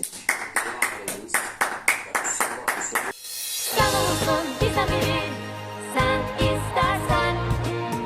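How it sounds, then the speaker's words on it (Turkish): An applause sound effect in a student's vlog: about nine sharp, evenly paced claps ring out for a few seconds, then a denser clattering burst with a ringing tonal layer takes over. "Alkış efekti"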